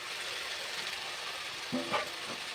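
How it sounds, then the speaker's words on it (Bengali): Marinated chicken sizzles in a pan of oil and cooked-down spice paste for chicken curry. There is a faint, steady hiss with a brief stir near the end. "এবার আমি চিকেনটা, ম্যারিনেট করা চিকেনটা দিয়ে দেবো।"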